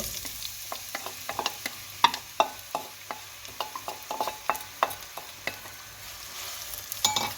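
Onions sizzle in a hot pan with frequent scraping and stirring clicks, moderately close, no voices.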